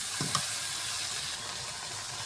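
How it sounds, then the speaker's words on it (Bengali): Pigeon meat frying in oil with onions, a steady close sizzle and hiss with a brief stirring clatter near the start, no talk. "আমি কিন্তু গোস্তটা ভাজছি,"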